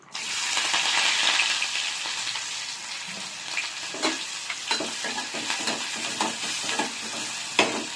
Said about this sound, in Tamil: எண்ணெய் சூடு எரிச்சு இப்போ நம்ம வெங்காயம் சேர்த்துக்கலாம்.